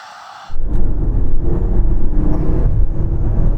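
A 2022 Range Rover launches hard from standstill uphill after brake boosting, its engine jumping from quiet idle into a loud, sustained deep roar that holds steady through the rest of the run.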